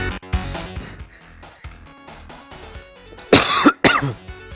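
Two harsh, loud coughs burst out close up near the end, preceded by quieter throat noises and faint background game sounds.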